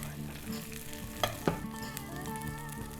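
Okra crackles and sizzles in hot oil, a soft continuous frying hiss with a couple of brief clinks from a utensil, fairly quiet overall.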